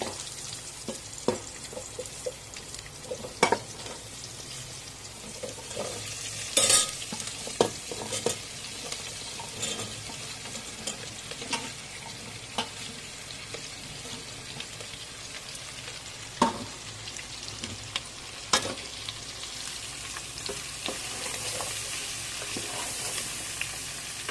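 Capsicum fries and sizzles in an oil-and-turmeric tempering in a pan for mango capsicum masala curry, with a continuous close sizzle broken by frequent scraping stirs of a spatula.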